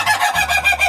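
Young chicks mixed with guineafowl chicks chirp and cheep continuously in a brooding pen, a dense, close chorus of high peeping with a steady pulsing rhythm and no talk.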